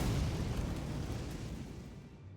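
Queen's Black Flame Ash of War unleashed in Elden Ring: a heavy, broad rumbling burst of fire that roars loudly from the start and slowly fades over a couple of seconds, with no voices.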